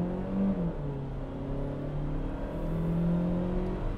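A 2013 Mazda3 engine revs hard under full throttle, a steady loud drone with rising tones as it accelerates, close and continuous.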